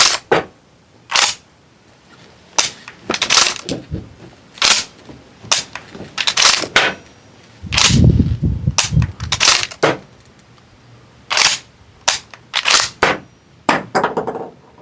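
Sharp, loud cracks from an air-powered shotgun fire in a quick irregular series, each shot alone and close, with a few heavier thumps and mechanical clacks of shell handling between them.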